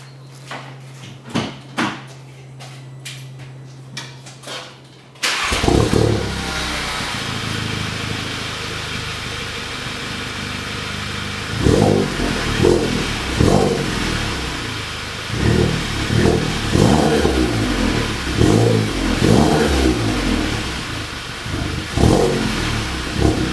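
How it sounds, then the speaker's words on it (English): A Mk7 Volkswagen GTI engine revs repeatedly with a raspy, droning exhaust tone from a fabricated exhaust with resonator delete, after a brief quieter idle, loud and close, with rising bursts of throttle. "Sound clip coming off just with a resonator delete."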